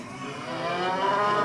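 A person imitates a cow mooing at a comedy hypnotist show at a State College, PA First Night event, giving one sustained, drawn-out low moo that swells slightly louder toward the end, heard alone without talk.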